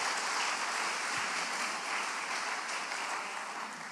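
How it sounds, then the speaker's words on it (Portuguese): A church congregation applauds an actor after a performance, a thick, even wash of many hands clapping together, steady and sustained throughout with no voices standing out. "Aplauda aqui o nosso ator."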